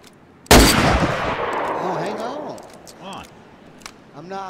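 Gunfire in a first-person shooter video game, opening with one loud, sharp shot whose echo fades slowly, with no talking heard.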